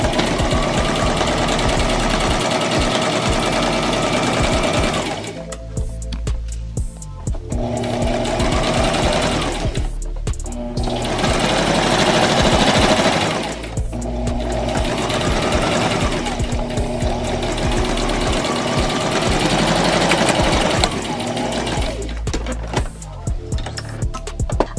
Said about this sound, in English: now we're gonna sew the bottom